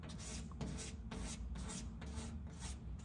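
Hand sanding paint runs on a C10 with 600-grit paper on a small block, a close steady rhythmic rasp of back-and-forth strokes, about six passes, alone with no voices.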